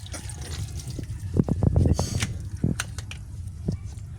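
Water splashing and trickling from a leaking pipe fitting, with irregular dripping and gushing close by while a voice speaks over it.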